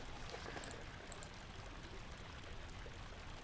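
Steady rush of water spilling from a loose, leaking pipe in the horror game Amnesia, a continuous faint trickling stream with no voices.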